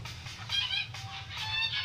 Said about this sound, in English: Is that a goose army?